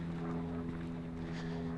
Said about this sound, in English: Perhaps right now you can hear the drone of a single-engine plane.